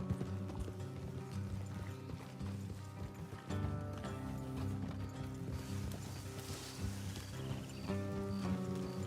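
Steady clip-clop of horse hooves at a walking pace in the video game Red Dead Redemption 2, running under a continuous musical score with no voices.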